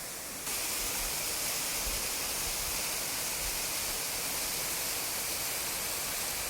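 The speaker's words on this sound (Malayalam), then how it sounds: "മരത്തിൻ്റെ വേരുകളിലൂടെയാണ് ഈ വെള്ളം ഒഴുകി വരുന്നത്." Water trickling and flowing over exposed tree roots, a steady broadband rush with no talk, constant and fairly close throughout.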